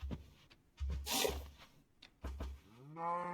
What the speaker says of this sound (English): They're pretty much just cows, but with mushrooms on them.